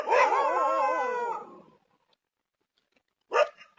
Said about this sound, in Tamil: இதை பார்த்து ஃபர்ஸ்ட் நாய் குலைக்குதுங்க.